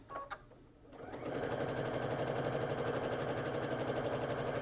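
A sewing machine fitted with a darning foot stitches free-motion quilting, its needle starting after a brief pause and then running in a fast, steady mechanical rhythm close by, with no talk.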